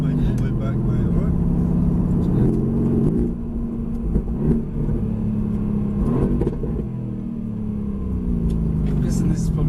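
A Mercedes AMG GT S drives laps on a race track, heard from inside as a loud steady engine drone with rising and falling revs, while people talk over it.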